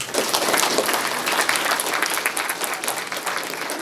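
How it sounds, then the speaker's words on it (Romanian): An audience applauds at an endometriosis awareness talk in Onești, a steady dense wash of clapping from many hands that stays loud throughout. "Deci o și aplaudăm."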